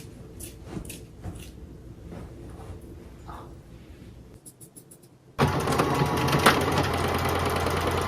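A sewing machine stitches a straight seam down fabric to take in a fitted tube top, running loud and steady for the final few seconds after quieter handling and clicks at the start.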